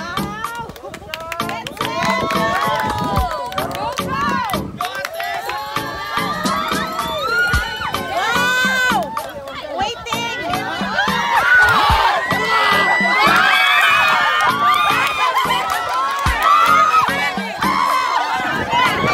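Lively crowd of students at a college summer outing in Moalboal cheering, shouting and clapping continuously throughout, loud and close, with children's and young voices overlapping and talk mixed in.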